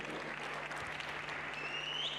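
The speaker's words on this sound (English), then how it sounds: "Please give her a round of applause." A graduation ceremony crowd at Regenesys Business School gives a round of applause, steady, faint and distant, with no break.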